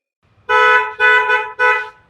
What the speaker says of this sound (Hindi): बाद क्रेटा साउंड हॉर्न भी इंस्टॉल किया गया है इसके बजा अंदर। दो एक बार।